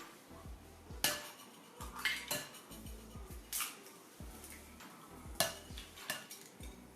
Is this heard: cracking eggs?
yes